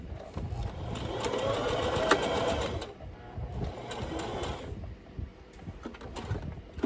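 A sewing machine stitches a fabric superhero face mask in two bursts of fast, even mechanical whirring, loud and close, separated by a brief pause, followed by quieter handling noises and no speech.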